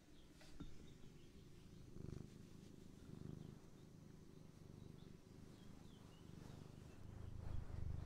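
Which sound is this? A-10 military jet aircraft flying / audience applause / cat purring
cat purring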